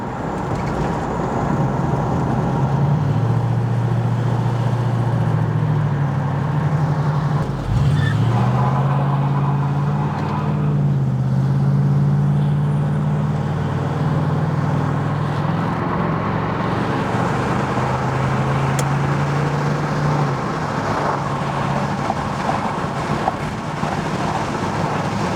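A 1970 Pontiac Firebird Formula cruising down the road at about 70 mph, its engine a steady low drone with road and wind noise, briefly dipping and rising again before settling.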